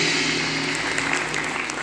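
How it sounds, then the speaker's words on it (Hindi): A crowd at a network marketing event applauds steadily, a dense wash of clapping that holds at an even level from start to finish. "तो एक बार फिर से जोरदार ताली होना चाहिए"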